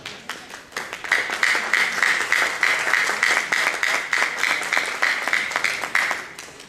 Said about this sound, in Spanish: Recibimos a Salam con un fuerte aplauso.